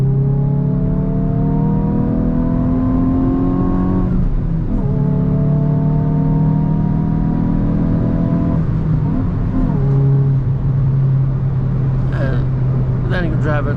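A Hyundai i20N with a warmed-up T-GDI turbo petrol engine accelerating hard, its loud interior drone climbing steadily in pitch through the gears, with pauses at the shifts, then settling back toward a normal cruise.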